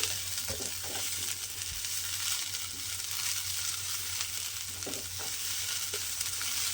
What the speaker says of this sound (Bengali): এইভাবে একটু নেড়ে চেড়ে দিচ্ছি।